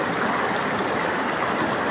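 River water at an island beach flows in a steady, close, even rush with no break and no voices.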